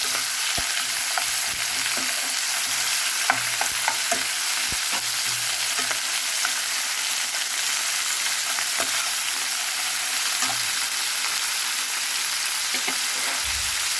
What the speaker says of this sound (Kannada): ಟೊಮೆಟೊನ ಹಾಕ್ಕೊಂಡು ಅದನ್ನು ಸಹ ಚೆನ್ನಾಗಿ ಫ್ರೈ ಮಾಡ್ಕೊಳ್ಳಿ